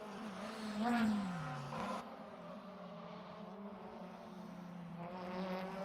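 Race car engines whine and rev continuously, with a rising pitch sweep early on and a steady droning hum throughout, loud and close.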